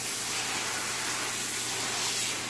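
Rocks for cube-shaped pieces are sprayed down with water, giving a loud, steady, close hiss of a spray nozzle that runs unbroken the whole time, with no talking.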